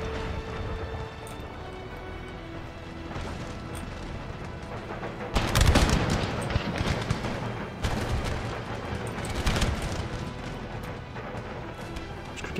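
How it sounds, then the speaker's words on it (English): Artillery firing canister shot in Empire Total War: a battle din of repeated sharp cannon and musket bursts, loudest in clusters midway, over continuous background noise. "Firing canister."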